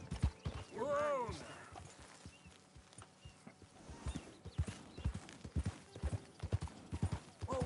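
Horse hooves clip-clop in a steady walking rhythm in Red Dead Redemption 2, with a brief tonal call near the start and quiet game ambience underneath.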